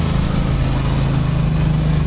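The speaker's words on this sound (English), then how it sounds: "Typical AC clutch noise." A car engine with a noisy AC clutch runs at a loud, steady drone with a constant low hum and whirring, close up and unbroken, with no talk.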